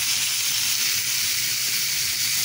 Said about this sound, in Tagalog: Lagyan na natin yung ating gizzard,